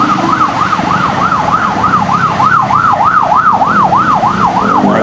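An ambulance siren wails in a steady, repeating up-and-down pattern as it passes along a flooded MacArthur Highway in San Fernando, Pampanga, loud and close over a low rumble of traffic and water.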